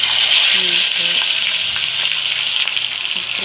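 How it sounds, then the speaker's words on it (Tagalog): Steady, close sizzling and crackling of tilapia frying in hot oil, with faint clinks of a utensil now and then. "prito po akong mga isda"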